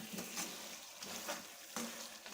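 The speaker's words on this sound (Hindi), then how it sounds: "तो इसको अच्छे तरीके से हमने फ्राई करना है" Cluster beans (guar phali) frying with meat in a pan give a soft, steady sizzle, with a few brief stirring bursts, close and fairly quiet with no voices.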